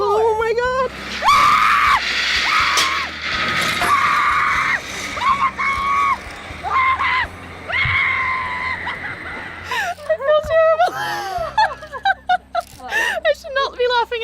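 Screaming from a rider on a terrifying amusement ride during a New Zealand vacation, loud and sustained with breathless, wavering cries that break into shorter yelps and shrieks near the end.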